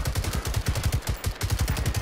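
Sustained automatic gunfire in the shooter game Generation Zero, a rapid steady burst of roughly a dozen shots per second, loud and close, running continuously with no talk over it.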